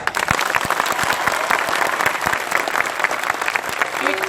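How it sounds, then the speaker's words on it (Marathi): A crowd at a rally in Nanded breaks into loud, dense applause, many hands clapping steadily for several seconds. "या माता नागाईसाठी टाळ्या"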